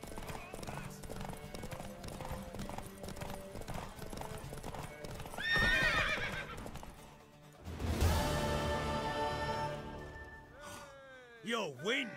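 In the video game The Witcher 3: Wild Hunt, hooves clip-clop steadily under background music, then a horse neighs loudly; voices speak briefly near the end.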